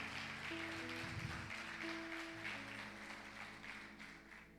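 Church congregation applauding for Jesus: steady, dense clapping from a large crowd under sustained music with organ-like tones, no talk.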